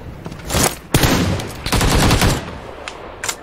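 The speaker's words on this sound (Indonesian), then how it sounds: "tembak terus, tembak terus, tembak bang" Rapid automatic gunfire in PUBG Lite on PC, several loud bursts of close shots with short gaps between them and a sharper single burst near the end.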